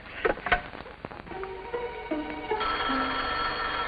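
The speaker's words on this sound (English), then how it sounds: "That's the phone. I'll be right back." A telephone bell rings repeatedly in a 1950s sitcom scene, its sharp metallic trills close and clear over quiet room tone, with no one talking.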